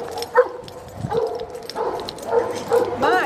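Dogs bark and yip in short bursts while heading out for a walk around the block, fairly close, with whimpers between barks and people talking quietly in the background.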